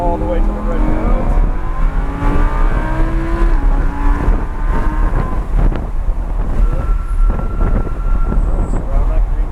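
A Lamborghini Huracan accelerates on a raceway's cone course at Englishtown Raceway, its engine climbing through rising revs beneath heavy wind buffeting, with a person talking over it.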